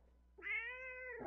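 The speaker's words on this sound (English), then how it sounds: "Cat." A single cat meows once up close indoors, a clear, drawn-out call of about a second against a quiet background.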